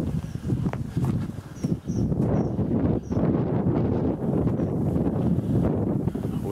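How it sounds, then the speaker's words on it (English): Wind gusting steadily across an outdoor airsoft field lined with high trees, a loud continuous rush buffeting the microphone throughout with brief dips in strength. "Windy."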